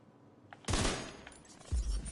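Two loud gunshot bursts ring out in the video game The Division 2, each hitting hard with a broad crack and rumbling tail after a quiet lead-in, with no voices.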